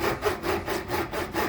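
Hand sawing through wood during a home DIY pegboard project, with close, steady back-and-forth strokes in an even rhythm, roughly six rasping passes.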